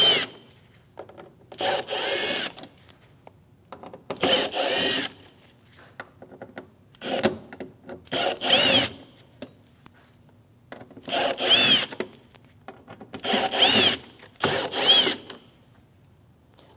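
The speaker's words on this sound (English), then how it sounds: "we're going to take these top screws off going across, and this is a T15, it's a Torx bit" Power drill backing T15 Torx screws out of the front bumper cover on a 2016-2025 Chevrolet Malibu, with several separate bursts of whirring spaced a second or two apart, close and fairly loud, no talking.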